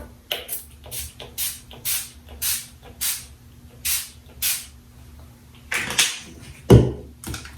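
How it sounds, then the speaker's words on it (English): An NYX makeup setting spray bottle fires about a dozen short, sharp hissing bursts onto a face in an uneven rhythm, close by, with a soft knock near the end. "I'm gonna spray it all over my face to set my makeup"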